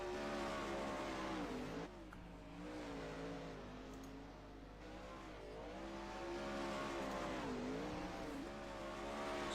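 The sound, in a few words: 410 sprint car engine on the racetrack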